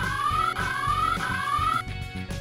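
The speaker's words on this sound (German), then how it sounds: "Das ist doch der Alarm, oder was?" The alarm system on a Playmobil Top Agents headquarters toy sounds a shrill electronic siren, rising sweeps repeating about every half second for a few cycles before cutting off, loud and close without talk.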